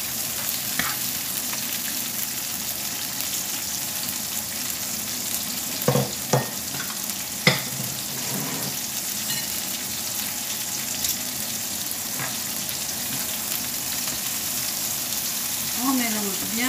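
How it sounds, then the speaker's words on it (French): Half a bell pepper sautés in a pan for homemade paella, with a steady moderate sizzle broken by a few spoon scrapes and stirring knocks. "Et on va y ajouter moitié de poivron. Et on fait revenir tout ça."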